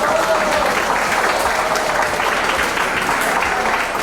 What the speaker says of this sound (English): please give a round of applause to these wonderful ladies here